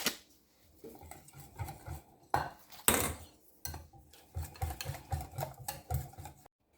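Utensil scraping and knocking against a bowl while quiche batter ingredients are stirred together, in uneven bursts with short pauses and one louder clatter partway through.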